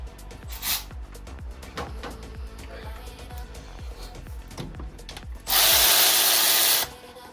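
A power drill works on the exhaust of a Ford Focus, giving a series of short rhythmic bursts with knocks, then one loud sustained whir near the end, heard up close.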